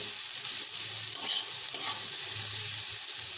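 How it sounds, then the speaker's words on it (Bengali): Chopped onion fries over medium heat with a steady, fairly quiet sizzle and faint occasional stirring scrapes, and no one talks. "এইভাবে আমি আরও মিডিয়াম হিটে আরও একটুক্ষণ ভাজতে থাকবো এগুলোকে আরও একটুক্ষণ ভালোভাবে ভেজে নেব"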